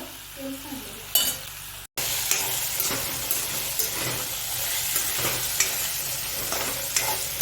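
Potato, chili and cumin sizzle and crackle in hot oil, with occasional scraping stirs in the pan; a short quiet start gives way to continuous frying.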